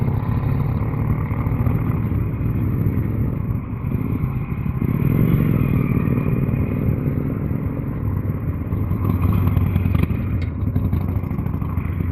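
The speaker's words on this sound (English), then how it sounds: "There's some sort of motorbike club." Motorcycles roar past close by in a loud, continuous stream of engine noise with some rattling clatter.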